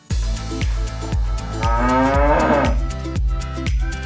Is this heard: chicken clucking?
no